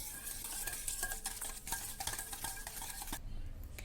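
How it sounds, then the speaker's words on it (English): Powdered sugar is whisked into a batter by hand, with quick repetitive scraping and tapping of the whisk against the bowl, close and steady throughout. "we will add a bit later and mix it with the whisker"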